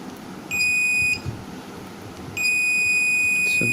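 A multimeter set for continuity gives a loud, steady electronic tone while its probes touch socket pins. Two beeps sound, one about half a second long and one held from mid-clip to the end, with faint handling noise between them.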